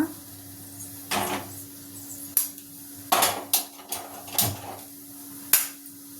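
A pan set down on a lit stove, with several sharp metallic clanks and knocks spread irregularly over a few seconds against a low steady hum.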